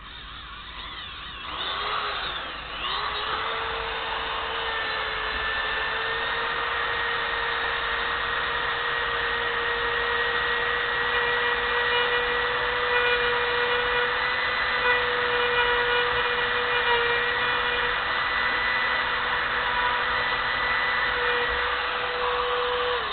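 A power tool cuts a piece off a J3 Cub wing spar during a repair. It spins up and then holds a loud, steady whine close by for about twenty seconds, with no talking.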